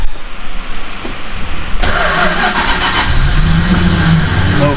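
A 1969 Plymouth Road Runner with a 440 engine, sitting dormant for over 20 years, cranks and fires up loudly, the starter giving way to a rough, rumbling catch and a steady, rising idle heard up close.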